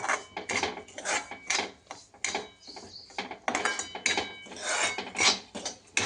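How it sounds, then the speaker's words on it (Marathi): Semolina (rava) dry-roasts in a pan for upma and is stirred in quick, rhythmic scraping strokes, a close, gritty rasping repeated about twice a second. "रवा छान असा गुलाबी रंगावर भाजून घ्यायचा."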